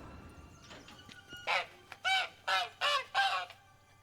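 A caged goose honks in The Witcher 3: Blood and Wine, five loud, close calls in a steady run after a quieter, faint lead-in.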